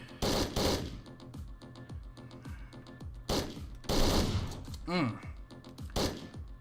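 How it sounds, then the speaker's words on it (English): Shotgun blasts and rapid gunfire in the video game Hotline Miami 2, repeated loud bursts over a pounding synth soundtrack, with an occasional voice. "That shotgun."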